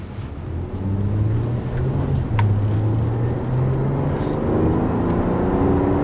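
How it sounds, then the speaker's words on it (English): Smooth V6 engine of a 2013 Acura RDX AWD crossover during a test drive, a steady mid-loud drone with gently shifting tones as it pulls, heard from the cabin without speech. "Really nice, smooth sounding V6."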